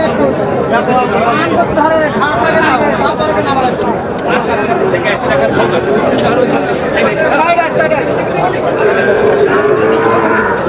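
Cattle moo amid a busy crowd of chattering voices at a bull calf market in Choubari, the lowing mixed into constant outdoor babble.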